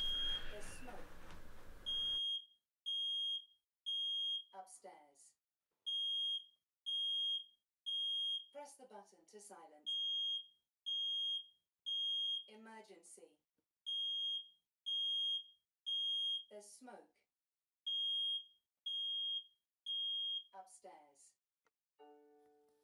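A Nest Protect smart smoke alarm chirps in repeated high beeping bursts separated by short pauses, loud and close, with brief clattering noises in between.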